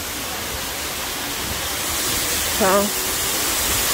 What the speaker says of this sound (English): This is the waterfall and it is gorgeous.